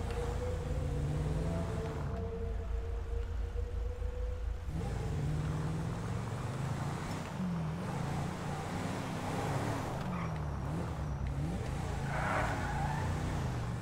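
Car burnouts in the GTA V video game: steady, loud engine revving and roaring tire noise fill the scene continuously, with the engine note rising and falling throughout.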